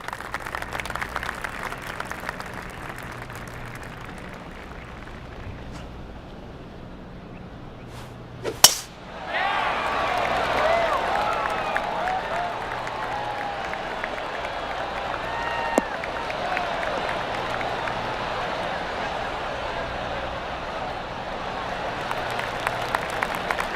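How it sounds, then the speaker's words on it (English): Golf gallery applause in PGA Tour 2K23, starting after a sharp strike and swelling into a steady, moderately loud patter of clapping over low ambient crowd murmur that carries on to the end. "Oh, golf clap"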